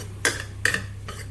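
A utensil clinks against a bowl while cabbage and egg omelette batter is mixed, giving three quick, light scraping knocks over a steady low hum.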